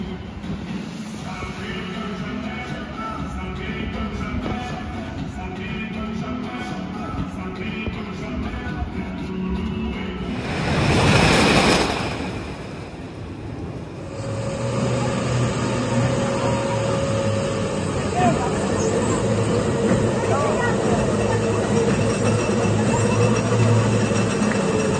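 The Wild Train ride, a spine-track amusement park attraction in France, gives a steady mechanical rumble that swells into a loud rushing whoosh midway, then settles into a constant droning hum.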